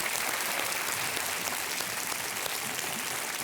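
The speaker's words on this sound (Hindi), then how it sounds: "तालियां बजती रहें देवियों के लिए" Steady, even audience applause in a television quiz show studio, continuous dense clapping for female contestants arriving on stage.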